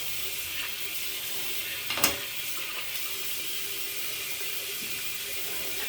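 A shaving razor is rinsed under a running tap, a steady hiss of water with one brief clink as the razor strikes the sink.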